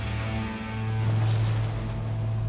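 A strong, steady wind roars outdoors during assault rifle training, a dense, continuous rush with low buffeting and no pauses.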